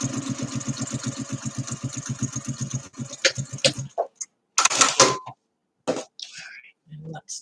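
A sewing machine runs a steady, rapid top stitch along a folded fabric edge for about three seconds, then stops, followed by a few brief handling clicks and rustles with scattered pauses.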